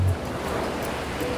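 Artificial surf from an Endless Surf compressed-air wave generator makes a continuous, loud, broadband rush of breaking water, with no talking over it.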